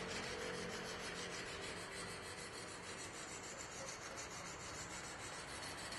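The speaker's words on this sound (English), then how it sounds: "As you see, I'm just scrubbing up and down." A knife blade is scrubbed up and down on a Chosera whetstone, making a faint, continuous gritty rasp that holds steady throughout with no pauses.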